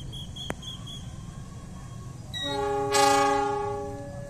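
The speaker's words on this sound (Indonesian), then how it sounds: "bertanda CC206 ini akan segera masuk kembali menuju ke stasiun Garut" A CC206 diesel locomotive approaching Garut station in Indonesia, quiet rumble followed by a loud sustained multi-tone horn blast that swells and holds, with no talking.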